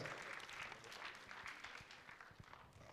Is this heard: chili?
no